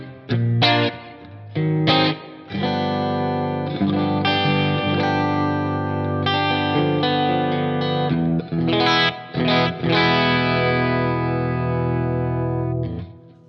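PRS SE Custom electric guitar with the bridge humbucker split and the neck left as a humbucker, played through effects as chords and ringing notes, loud and sustained with brief pauses between phrases.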